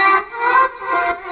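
A chopped vocal drenched in reverb, side-chained to a kick drum so it pumps in and out in a rhythmic swell, with no spoken words.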